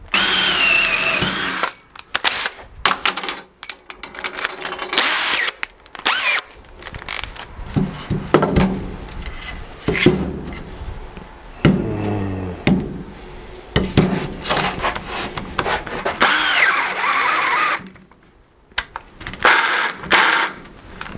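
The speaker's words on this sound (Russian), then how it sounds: "Режим сверления." A cordless drill-driver runs in drilling mode through wood, the motor whining loudly in repeated bursts that start and stop, with short silent gaps between runs.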